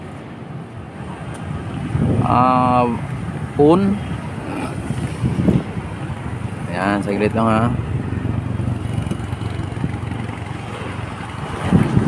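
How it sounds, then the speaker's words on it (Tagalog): Steady low wind rumble buffets the microphone throughout while someone talks briefly over it. "Ang lakas ng hangin dito mga bayan, ang lakas ng hangin"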